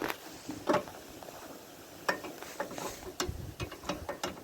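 Metal clicks and clunks from the emergency brake lever of a 1948 Farmall Cub tractor catching on its ratchet, several sharp close ratcheting snaps spread irregularly over a few seconds.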